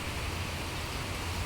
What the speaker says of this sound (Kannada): ಫುಲ್ಲು ಜೋರು ಮಳೆ.